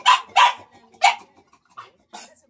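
A dog barks in sharp, close bursts, three loud barks followed by two fainter ones, with no voices over them.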